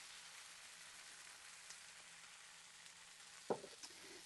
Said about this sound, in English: That definitely sounds like this pan is too hot.